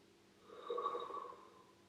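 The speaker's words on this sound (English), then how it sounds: "Let's take 3 deep breaths." A single slow, deep breath during a guided meditation: a soft airy inhale that swells through the middle and eases away. It is close, quiet and breathy, with no talking.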